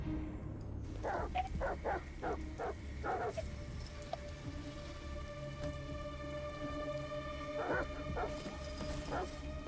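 Dogs bark in short clustered bursts in the Detroit: Become Human video game, a few sharp barks early and a couple more later, moderately distant over steady rain-like noise and a sustained tonal hum.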